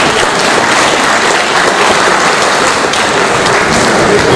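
Steady, dense applause from a lecture-hall audience at a university lecture, loud and continuous without a break, with no talk over it.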